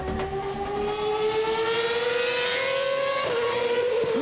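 Formula 1 race car engine screaming at high revs, a loud sustained whine that climbs steadily in pitch before dropping sharply with a gear change near the end, heard alone without speech.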